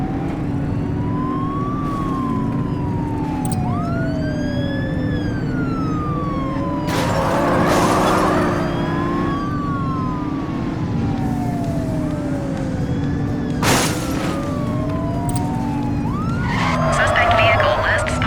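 A police car siren wails and yelps through a chase in the video game The Precinct, its rising and falling tone sweeping continuously over engine rumble, with brief bursts of tire noise or impacts.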